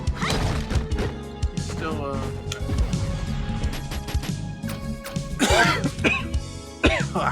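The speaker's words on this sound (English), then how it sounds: "oh, sorry about that. Cough right now." A person coughs and clears their throat several times during a Street Fighter V game session, sharp loud bursts mixed with game music, hits and talk.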